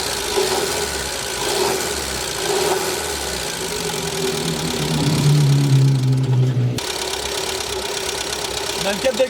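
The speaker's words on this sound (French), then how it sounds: "On a le câble d'accélérateur qui fait que de se tendre, du coup on est en perpétuelle accélération." A Renault 4L engine races continuously with its accelerator cable stuck taut, a steady mid-pitched drone that swells louder midway before dropping off, with people talking over it inside the car.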